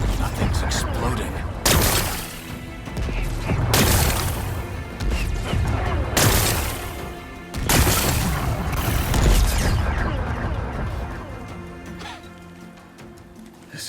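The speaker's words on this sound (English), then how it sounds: "Gotta blast away some rocks, so I can expose the power cell." Explosions blast away rocks in Horizon Forbidden West: four loud, booming bursts about two seconds apart, each with a crashing rumble, over a steady game background.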